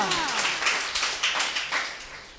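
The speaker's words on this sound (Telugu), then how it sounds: "గట్టిగా చప్పట్లు కొట్టండి." A church congregation at Sunday worship claps together loudly, a dense rhythmic patter of many hands filling the room with some faint voices mixed in.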